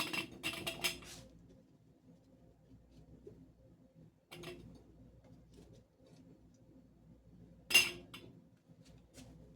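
Potato cubes tumble through a canning funnel into glass jars, with brief clinking clusters separated by quiet stretches.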